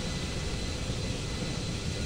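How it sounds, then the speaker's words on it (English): A Japanese kamikaze torpedo bomber closes in during a Cold War space strategy game, a steady, loud engine roar and broad rumble holding evenly throughout with no voices. "Japanese kamikaze torpedo bomber"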